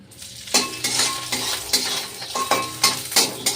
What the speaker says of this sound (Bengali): এই যে বড়িটা ভাজছি বড়িটা একটু হালকা আগে কড়াই গরম করে নিই তারপর তেল দিই